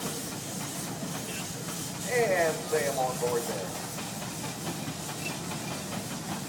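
Soft, steady hiss of steam from a 1911 Gar Scott 20-horsepower steam traction engine built in Richmond, Indiana, at a Rushville steam engine show, faint and continuous under someone talking.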